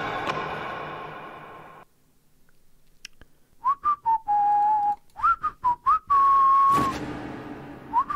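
Sharp melodic whistling from characters in a horror video game: a run of short rising and falling tones, then longer held notes, loud and close after a quiet gap, with no talking.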